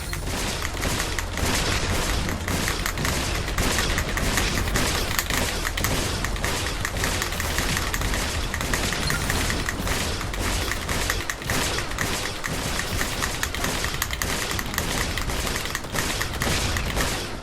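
Shotgun blasts in the Galactic Rangers VR game, a dense, rapid run of loud thumping shots and booms firing almost nonstop, with crunchy impacts layered under the barrage.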